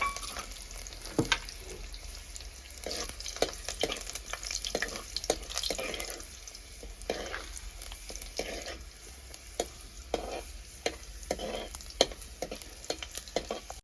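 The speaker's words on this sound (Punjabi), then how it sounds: "ਜਿਹੜਾ ਤੇਲ ਬਚ ਗਿਆ ਉਹਦੇ ਵਿੱਚ ਆਪਾਂ ਪਾ ਲੈਨੇ ਆ ਲਸਣ ਲਸਣ ਨੂੰ ਆਪਾਂ ਚੰਗੀ ਤਰ੍ਹਾਂ ਬਰਾਊਨ ਕਰ ਲੈਨੇ ਆ" Garlic frying in leftover oil in a pan on a chulha gives a constant low sizzle, broken by scraping stirs and clinks at irregular intervals, with no one talking.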